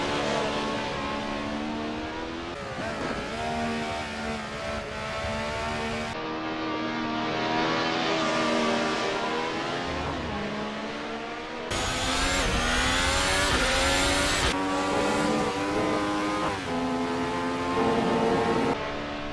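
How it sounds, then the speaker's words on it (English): A Mercedes W11 Formula 1 car and a classic Ferrari race at Silverstone, with loud, continuous high-pitched engine howls that rise and fall through gear changes, layered engine notes overlapping, close and sustained throughout. "And the Mercedes caught up to the Ferrari on the Wellington Straight."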